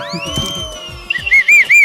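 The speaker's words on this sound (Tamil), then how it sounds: "ஏய் விசில்லாம் நீ ஊதாத." A whistle blown in repeated short shrill bursts near the end, following a sustained tonal squeal, heard up close outdoors with no talking.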